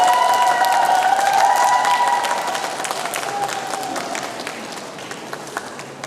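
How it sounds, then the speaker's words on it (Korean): Hall audience applause welcoming a Buddhist monk to give a dharma talk, loud and dense at first, then gradually thinning and fading, with a faint tonal ring early on. "큰 박수로 모시도록 하겠습니다"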